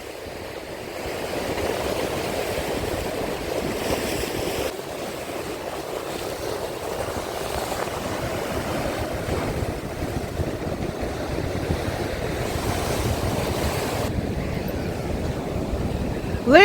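Steady wind buffets and roars across the microphone on the Black Sea coast at Chornomorsk, a constant rushing noise with slight surges, no voices.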